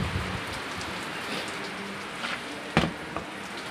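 Steady rain falling and pattering on surfaces, a soft continuous hiss with a few sharper drips and knocks, no voices.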